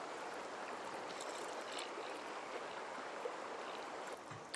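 Steady rushing stream water flowing just above a waterfall in a Japanese reserve of a fishing video game, a continuous broadband wash with no talk over it.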